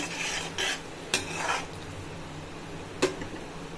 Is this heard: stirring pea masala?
yes